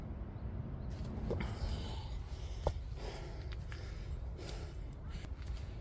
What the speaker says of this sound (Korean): 거친 숨소리가 들리실 텐데요